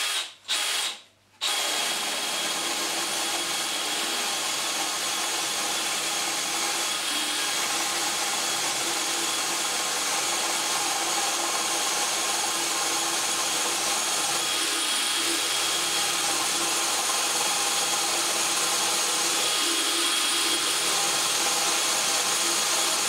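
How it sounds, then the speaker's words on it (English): A Dewalt DCD796 18V brushless cordless drill bores into a piece of 6x2 timber, a close, loud, steady motor whine under load that runs continuously after two brief starts. "we can drill the majority of the way through this piece of 6x2."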